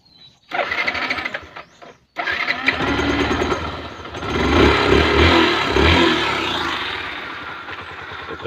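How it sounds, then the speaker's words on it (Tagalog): A Yamaha SZ 153 motorcycle runs with its rear wheel spun up off the ground, a steady mid-pitched engine drone and whirring drivetrain that starts after a brief gap and swells slightly as the wheel gains speed, close and loud throughout. "So paikutin natin yung gulong mga guys para makita nyo kung gumagana pa talaga siya"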